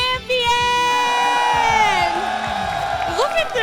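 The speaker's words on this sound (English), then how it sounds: "Look at this crowd!" The crowd at the 2025 Yu-Gi-Oh! YCS championship finals in Houston, Texas, cheers loudly and continuously, with whoops and shouting voices rising above the roar.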